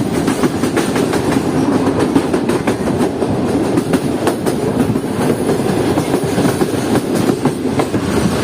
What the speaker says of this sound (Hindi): 7:55 पर ट्रेन हमारी पहुंच रही है बिन कासिम रेलवे स्टेशन पर